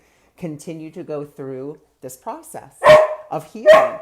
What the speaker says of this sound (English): you're going to hear my dog because he wants to go outside